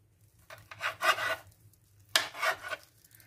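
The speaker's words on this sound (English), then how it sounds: "Some parts of the cutlets are thicker than others, so keep that in mind when you're cubing them." A kitchen knife slicing raw chicken cutlets into cubes on a cutting board, two short scraping cuts, close and quiet, with no talking.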